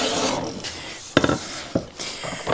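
Hand plane shaving hard wood, the blade advanced to keep a shaving going: a series of short, close, raspy scraping strokes in an uneven rhythm, several per second.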